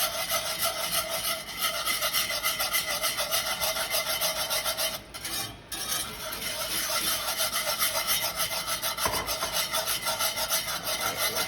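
Warm vinaigrette for a rotisserie chicken cobb salad being stirred steadily in a pan as a light stream is slowly poured in, giving a continuous close scraping, rubbing rasp with a brief dip midway and no talk.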